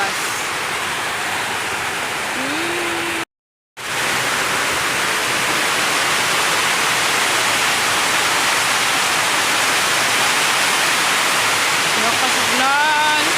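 Heavy rain pours down outside in a steady, loud broadband roar, briefly cut by a moment of silence, with a voice faintly audible at the start and end.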